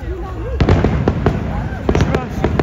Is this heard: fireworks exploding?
yes